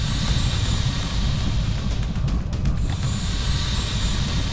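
An eerie, ethereal alien sound from the video game XCOM: Enemy Within, a dense, steady wash of rushing noise with a brief hollow dip in the middle, loud and continuous without speech.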